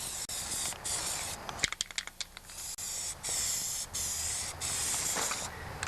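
Aerosol spray paint applied to the rear wheel of a John Deere 316 tractor, steady close hissing bursts broken by brief pauses and a few short clicking spurts as the nozzle is released and pressed again.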